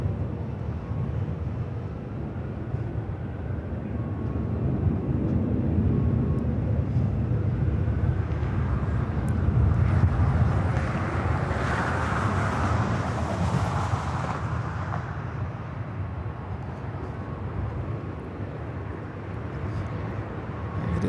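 A Delta Airlines Boeing 757 arrives from Boston at Los Angeles airport, its broad engine roar swelling toward a peak mid-pass and then easing off, steady and fairly loud throughout with no voices.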